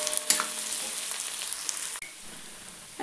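Onions frying in a pan for curry leaf chowmein: a soft, steady sizzle with light clinks and stirring at the start, then a brief scrape before the frying continues more quietly.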